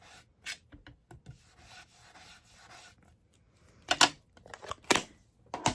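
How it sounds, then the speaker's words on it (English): Sponge rubbing ink onto cardstock: short, dry scuffing strokes close up, spaced out at first and then a few louder, quicker rubs near the end. "I'm going to keep adding some sponging"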